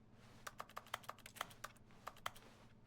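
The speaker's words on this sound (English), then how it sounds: "It sounds like I'm clicking on a keyboard, is it not?" Soft keyboard clicks in The Stanley Parable Ultra Deluxe, about a dozen irregular taps at close range over a quiet room hum.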